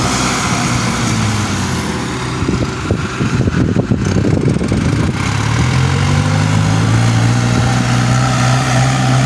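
A New Holland tractor engine hums steadily nearby while ploughing, its drone rising and shifting in pitch midway as it works.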